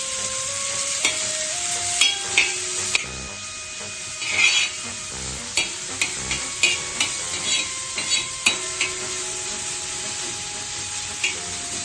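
Finely chopped onion fries in oil on a hot tawa, giving a steady sizzle punctuated by regular spatula scrapes, about one per second, beneath background music.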